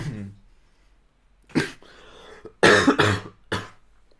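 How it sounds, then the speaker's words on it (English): Several harsh coughs from a nearby person, spaced irregularly over a few seconds, with a breathy sound at the start. "I've got a bad cough"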